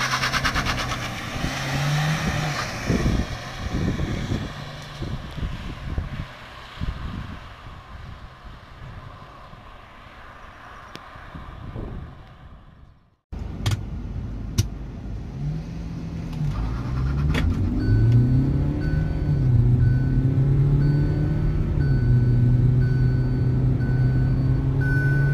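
A Hyundai Creta and a Kia Seltos launch side by side in a drag race, engines roaring loudly and steadily climbing in pitch through the gears after a brief pause, with rising whine and high tonal beeps near the microphone.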